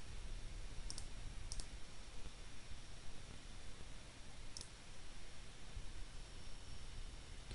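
Mouse clicks on a button in an Android emulator, three faint sharp clicks spaced apart against steady low hiss, no talking.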